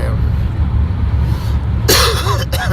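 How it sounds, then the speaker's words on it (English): A few sharp, harsh coughs burst out near the end, loud and close, after a stretch of steady low background rumble. "I got a good cough here."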